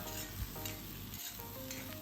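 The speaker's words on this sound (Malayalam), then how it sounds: "ഇനി ഇതിലേക്ക് കുറച്ച് കറിവേപ്പിലയും കൂടി ഇട്ടെടുക്കാം" Quiet, close crackle of curry leaves frying in oil, a continuous hiss with light stirring scrapes and no speech.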